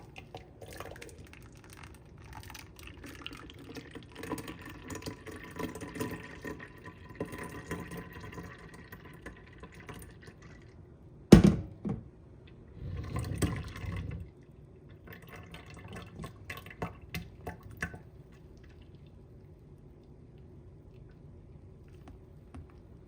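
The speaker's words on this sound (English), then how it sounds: "So I have a strainer and a pitcher right here. I'm gonna pour my juice in." Juice pours and trickles steadily through a strainer into a pitcher, with soft dripping and a sharp knock partway through, then quieter splashes toward the end.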